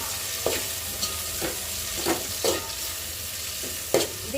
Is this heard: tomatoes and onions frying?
yes